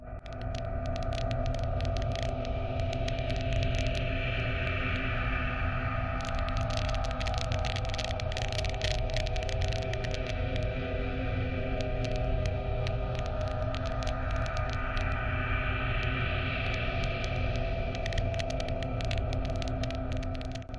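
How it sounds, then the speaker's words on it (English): A sonified gamma-ray burst discovered in 2024 forms a dense, steady electronic drone with a low hum and a wavering, throbbing texture, heard alone at a constant level with no voices. "if the gamma-ray burst that was discovered in 2024 could be turned into sound, it would sound something like this."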